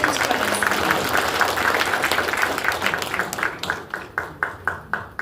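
Audience applause at a regional committee launch ceremony in Jeju, a dense crowd clapping that thins out into sparser individual claps toward the end, with no talk over it.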